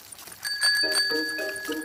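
A bicycle bell on Peppa's bike in the Peppa Pig cartoon rings with a bright, ringing metallic ding that sustains and fades, with faint lower tones beneath.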